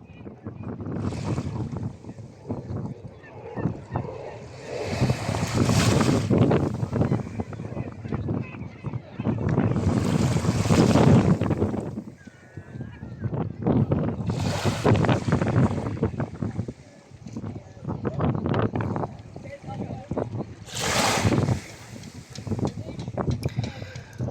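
Strong wind at a beach in Marseille buffets the microphone in heavy roaring gusts that swell and ease every few seconds, with a faint wash of surf underneath.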